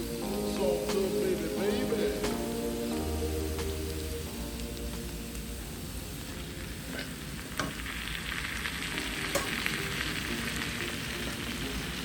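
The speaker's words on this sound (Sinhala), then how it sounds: "මම කපාගෙන තියෙන තක්කාලි ටික එකතු කරගන්නවා" Chopped tomatoes frying with beef in a pan for a spicy beef fry make a continuous moderate sizzle with crackles and a few sharp pops, plus faint background tones.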